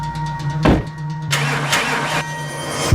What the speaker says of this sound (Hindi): इसके स्टार्टर में थोड़ी प्रॉब्लम आ रही है, चेक करके देखो क्या।